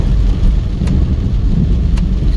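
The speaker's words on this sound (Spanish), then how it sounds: "el trueno que se escuchó fuerte" Loud, continuous roar of a heavy tropical downpour with deep low rumbling that fits thunder, steady throughout a storm in Nagarote, Nicaragua.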